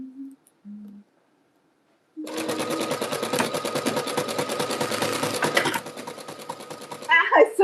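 Sewing machine stitching a fabric jelly roll rug: after a couple of soft sounds and a pause, a loud, even run of rapid mechanical stitching lasts several seconds, then stops with a few handling noises.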